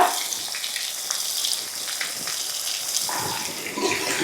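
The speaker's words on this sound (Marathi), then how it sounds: "आता आपल्याला ह्याच्यात टाकायचा आहे बारीक चिरलेला कांदा" Finely chopped onion frying in a hot tempering of oil, mustard seeds and curry leaves makes a steady, close sizzle with scattered crackles that holds at an even level throughout.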